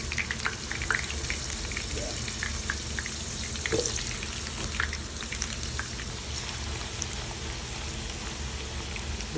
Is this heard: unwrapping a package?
no